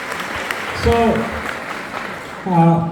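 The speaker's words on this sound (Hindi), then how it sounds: "सभी लोगों के लिए एक जोरदार ताली होना चाहिए" A crowd at a DXN program gathering claps for the Middle East and Qatar management and leaders, a continuous wash of applause with voices rising briefly above it twice.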